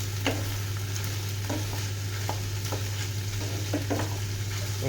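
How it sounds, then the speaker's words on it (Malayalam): Egg frying with broccoli and capsicum in a pan, a low steady sizzle with a spatula scraping and stirring at irregular intervals, close and moderately loud, with no talk. "നമുക്ക് മുട്ട ഒന്ന് ഇളക്കി യോജിപ്പിച്ച് കൊടുക്കാം."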